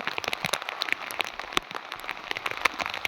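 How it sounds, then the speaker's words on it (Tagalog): Steady rain pattering on a surface during flooding in Sabang, Palawan, a dense crackle of drops with no voices. "So, okay lang itong ganito na ulan."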